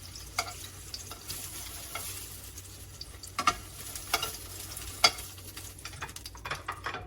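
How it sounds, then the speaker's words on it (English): Scallops searing in a hot pan give a steady sizzle, with scattered sharp scrapes and taps of a utensil on the pan, close and fairly loud, no voices. "And there you have it, seared scallops."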